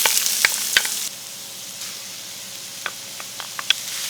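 Sliced peppers and onions frying in canola oil in a hot wok, a steady close sizzle with a few sharp pops and clacks of stirring near the start and later on.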